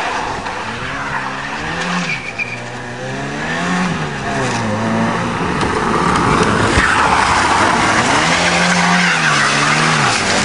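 A light Peugeot 106 with a roughly 1300 cc engine is driven hard on a farm. The engine revs rise and fall repeatedly and the tyres squeal, all loud and close, with no talk.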